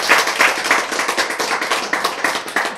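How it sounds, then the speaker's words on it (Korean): An audience claps during a Korean church lecture, a brisk, even rhythm of sharp hand claps repeating about three times a second, fairly close and with no talk over it. "박수!"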